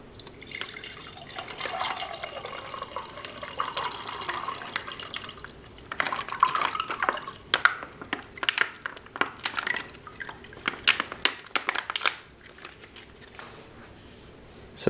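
Liquid from a resealable screw-top bottle, part of a Chinese PLA special forces ration pack, pours into a cup in an irregular close splashing trickle, with brief louder bursts partway through and no talking.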